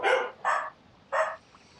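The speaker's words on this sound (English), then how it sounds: "Oh, the dogs have been barking all day." A dog barks three times nearby, loud and sharp, the first two close together and the third after a short gap, with no talking.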